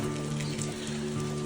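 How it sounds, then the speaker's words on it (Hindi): Steady rain falls in the misty, fog-covered mountains of Uttarakhand, a continuous close hiss of drops on surfaces with no voices, holding even throughout. "तो ये फॉग वगैरह हो गया है और बारिश चल रही है।"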